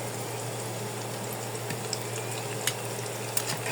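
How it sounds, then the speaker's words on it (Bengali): A snack fries in oil in a pan over low heat, giving a steady soft sizzle and bubbling with occasional faint pops and clinks. "লো আজে ভাজতে হবে হাইতে ভাজলে কিন্তু ভালো মতো তো ঠিক হবে না"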